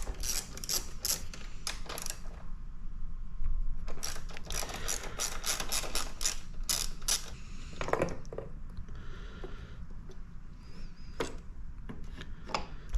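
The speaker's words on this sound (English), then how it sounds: "Go ahead and grab your 10mm socket and remove these two bolts for this bracket." A 10mm socket wrench backing out two bracket bolts on a Benelli TNT 135 motorcycle, giving quick bursts of close ratcheting clicks in rapid runs with short pauses between them.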